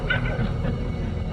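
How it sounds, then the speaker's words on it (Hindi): A dog barks and whimpers in the background during a meditation talk, with short yips over a steady hum and no speech in this stretch. "वो भौंक रहा है, उसे भौंकने देना है,"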